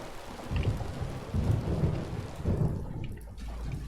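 Thunderstorm in the video game FAR: Changing Tides: heavy steady rain with low rolling thunder rumbles swelling several times, loud and close, no voices.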